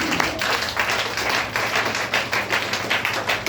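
A church congregation applauding the Lord, with dense, continuous hand clapping from many people close by, steady and fairly loud with slight rhythmic swells and no talking over it.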